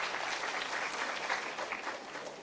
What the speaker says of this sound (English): Please give a big round of applause to Avni Davda.